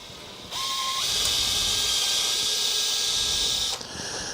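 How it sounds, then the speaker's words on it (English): A drill bores a slightly larger hole at the bottom of a tenon slot in a Shaker chest of drawers, making a steady whirring hiss that starts abruptly, holds for about three seconds and winds down. "drill a slightly larger hole at the bottom of these type of slots"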